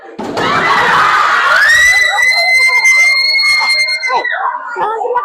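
Seventh-grade pupils in a classroom shout and scream together in a loud, sustained burst of overlapping voices that gradually thins out.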